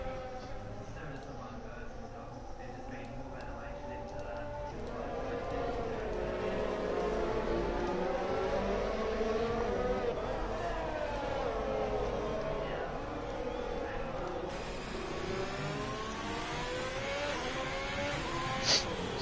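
F1 2020 race cars on out laps at the Hungary Grand Prix on PS4: a continuous whining engine drone rising and falling as cars run together, steady and moderately loud.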